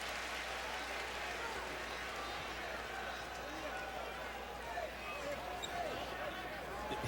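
A sellout crowd fills Bud Walton Arena during a Tennessee vs Arkansas college basketball game, a steady, loud roar of many voices with faint ball bounces and footfalls under it throughout.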